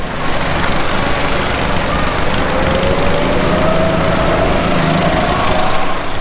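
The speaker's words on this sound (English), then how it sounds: "Oh, we got a little go-kart thing going on over here." A small go-kart engine drones steadily and loudly throughout, a buzzing, revving motor with a slowly rising whine, close by and continuous.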